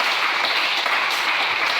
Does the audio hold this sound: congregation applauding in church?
yes